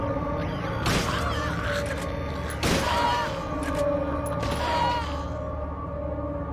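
Three spaced gunshots in Silent Hill 3, each a booming, reverberant blast over a droning background ambience.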